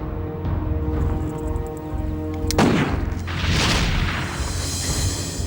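A single loud gunshot bursts out at mid-clip amid a tense drama scene, its sharp crack followed by a rumbling wash of noise over a low, sustained background tone.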